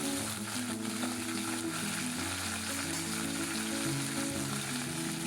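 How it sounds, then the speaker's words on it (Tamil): Curry leaves and dried chillies fry in hot oil as a tempering for rasam, giving a continuous, close, crackling sizzle throughout with no one speaking. "இப்போ கருவேப்பிலையும் காஞ்ச மிளகாவும் பார்த்திங்கன்னா எண்ணெயிலே நல்லா பொரியட்டும்."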